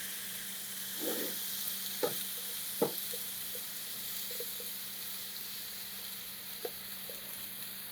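Squash sautés gently in a pan, a soft, even sizzle under a faint low hum, broken by a few sharp clicks of utensils against the pan, quiet and close with no talking.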